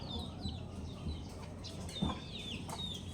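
Backyard chickens shut in a pen give soft, scattered clucks and short calls at moderate distance over a steady low background murmur, with one slightly louder call near the middle.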